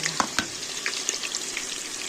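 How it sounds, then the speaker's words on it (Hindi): Chopped onion fries in oil in a pressure cooker, giving a faint, steady sizzle broken by a few soft crackles and stirring clicks. "अब यहाँ पे रखा एक प्याज चॉप करके ही जाएगा इसमें"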